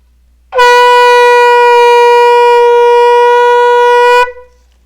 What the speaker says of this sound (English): In the meantime, I'll do a little sound with the Golus shofar.